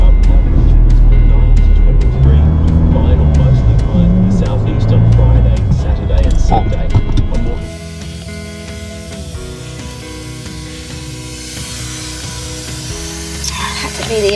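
A car towing a trailer drives on soft beach sand, a loud, close engine drone with rumbling and hissing that drops to a lower, steadier running noise partway through, while someone talks over it.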